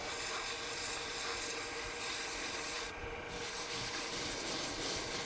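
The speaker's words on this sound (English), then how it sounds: "hit the rest of this with some sandpaper real quick" Sandpaper rubbing steadily over a wooden magic wand being finished on a woodturning lathe, a continuous close, loud scratchy hiss with one brief dip midway.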